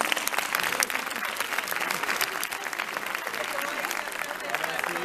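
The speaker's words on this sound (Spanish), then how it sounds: "un aplauso para ustedes" An audience applauds a live band performing Mexican corridos, steady dense clapping filling the space with scattered voices mixed in throughout.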